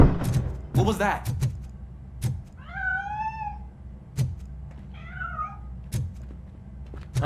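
A cat meows twice in RoboCop: Rogue City, two clear rising-and-falling calls close by, set among soft footsteps and thuds with a low ambient hum underneath.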